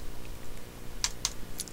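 Two or three crisp computer keyboard key presses for a Control O shortcut, sharp separate clicks close by over a quiet background hum.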